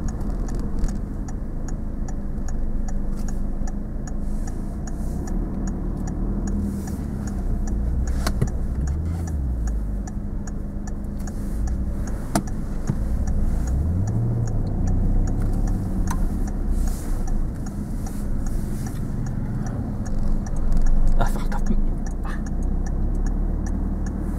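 A car's turn signal indicator ticks in a steady, even rhythm inside the cabin during a driving lesson, faint beneath the low hum of the engine and road noise, with no talking.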